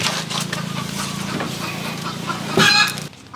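Chickens clucking in a rural yard, soft scattered clucks over a low steady background hum, with a brief louder squawk near the end.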